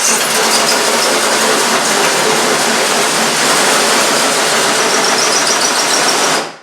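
Power drill with a cutting bit boring a hole through a shower wall, a loud continuous grinding roar that holds steady for several seconds and then stops abruptly, close up.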